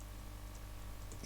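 Computer keyboard typing a Node.js terminal command, a quiet, steady patter of soft key clicks over a constant low hum, close and faint, with no voices.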